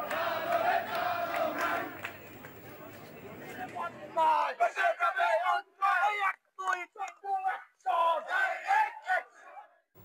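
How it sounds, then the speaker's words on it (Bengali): Students at a protest march in Bangladesh chant together, a dense crowd roar giving way to rhythmic bursts of shouted slogans with short pauses between them. "একই দাবিতে সিরাজগঞ্জ, মাগুরা, জামালপুর, নারায়ণগঞ্জ, ঠাকুরগাঁওয়ে বিক্ষোভ মিছিল করেছে শিক্ষার্থীরা"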